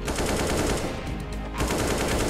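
Rapid gunfire from a Counter-Strike match, a dense continuous burst of shots that briefly eases near the middle before resuming at full loudness, close and loud with no speech.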